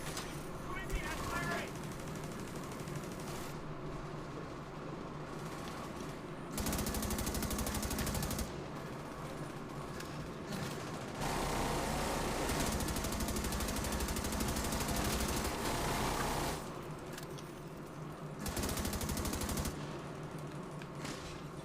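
Sustained suppressive gunfire in The Division 2, dense rapid automatic bursts that swell and ease in waves across the whole stretch, loud and continuous with game effects layered underneath.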